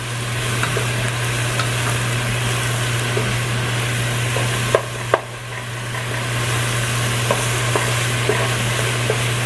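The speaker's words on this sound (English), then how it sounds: "Sauteing, okay. We've been sauteing for about 5 minutes." Vegetables for chili sauté in a pan with a steady sizzle and occasional utensil taps over a constant low hum, with a couple of louder knocks near the middle.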